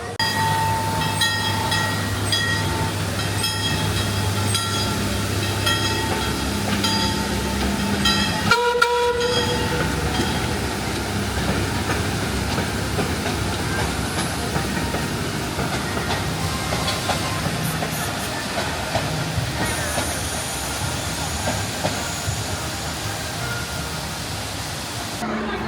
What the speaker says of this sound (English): It was a really nice train ride